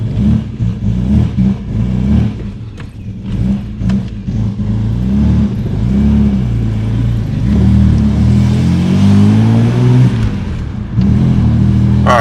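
A Ford Falcon EF XR6 fitted with a performance chip and running rich drives off, its engine droning loud and close, with revs swelling and rising through the gears over about twelve seconds.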